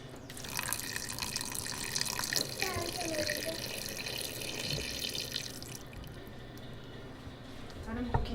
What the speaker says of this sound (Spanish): y luego les ponemos el agua.